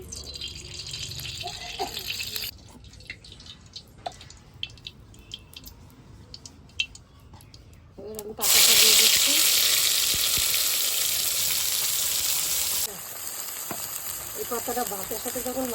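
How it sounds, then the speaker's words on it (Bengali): Cooking oil goes into a wok and heats. Faint clinks and rustles come first, then a loud, steady hiss of sizzling oil holds for several seconds before easing back to a quieter crackle. "কড়াইতে তেল দিয়ে দিচ্ছি"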